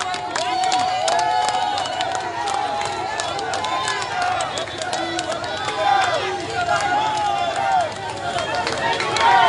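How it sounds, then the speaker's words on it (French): A crowd of mothers at a presidential visit in Beni claps and cheers in a dense, continuous wave of sound, with high voices calling out over steady hand claps close by. "voilà les mamans qui applaudissent."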